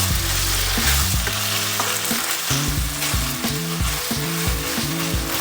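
Tomato paste frying and being stirred in a pan gives a steady close sizzle with scraping stir sounds, under a continuous musical backing.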